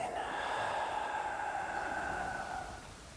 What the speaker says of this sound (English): Breathing out to the ceiling.